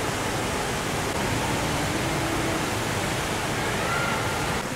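Indoor waterfall at the Jewel in Singapore, a constant loud roar of falling water filling the space with broadband rushing noise, no distinct talk over it.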